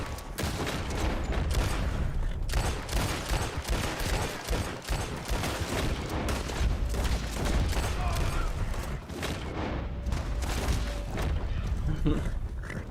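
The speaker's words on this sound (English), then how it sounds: "Why are you shooting at me?" Dense, continuous gunfire from a multiplayer Western shootout in Red Dead Online: rapid overlapping rifle and pistol shots crack throughout, with a few heavier booms, and a voice talks over the barrage.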